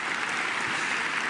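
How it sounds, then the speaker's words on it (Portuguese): A church audience applauds Jesus in a steady, dense burst of clapping that holds evenly throughout, fairly loud and unbroken by speech. "Palmas para Jesus."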